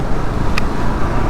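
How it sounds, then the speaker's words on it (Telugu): Road traffic noise during a motorcycle ride, a loud, dense roar of engines and wind with a brief high tone in the middle. "ఏం ట్రాఫిక్ ఉందయ్యా"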